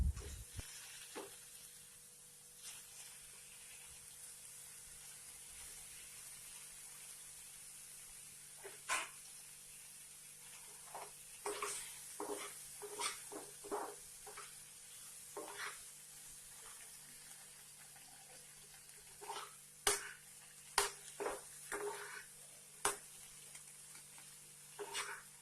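Small paneer pieces fry gently in butter, a faint steady sizzle broken by frequent clicks and scrapes of stirring, some sharper toward the end.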